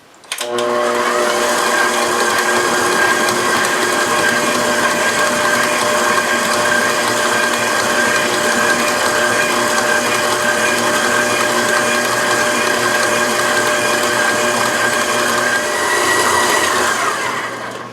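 A stand mixer kneads bread dough for pain de mie at medium speed, a loud, steady motor whine with a rhythmic mechanical churn that runs unbroken, then slows and stops.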